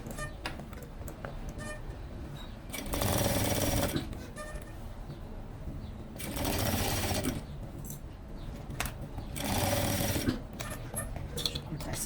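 A sewing machine fitted with a piping presser foot stitches piping. Three bursts of rapid, close mechanical stitching are separated by quieter stretches of handling.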